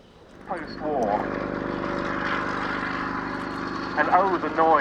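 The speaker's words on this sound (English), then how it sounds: "the noise of the 9-cylinder air-cooled Alvis Leonides radial engine of 550 horsepower." A propeller aircraft powered by a 550-horsepower 9-cylinder air-cooled Alvis Leonides radial engine at an air day display, a loud steady droning roar close by, with brief voices at the start and end.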